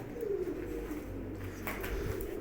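Several pigeons coo in a loft where the birds are kept and fed, with low, steady cooing throughout and a brief rustle near the end.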